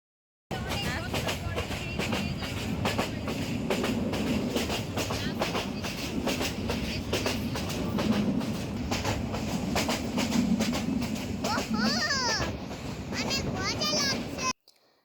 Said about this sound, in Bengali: তোমরা দেখতেই পাচ্ছ আমরা সবাই ট্রেনে চড়ে কোথাও যাচ্ছি।